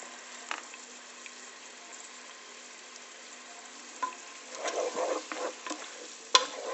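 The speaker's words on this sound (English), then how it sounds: "Stirring and letting the onions and the ukrop dill give out their nice smells." Onions and dill frying in extra virgin Greek olive oil, stirred now and then: a soft steady sizzle with scattered scraping stir sounds growing busier toward the end, plus one sharp clink near the close.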